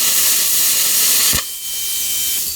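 A Simder CUT 50 plasma cutter running at 20 amps on 110 volts slices through 16 gauge sheet metal with a loud, steady hiss and crackle, a sharp pop midway, then the hiss continues slightly quieter.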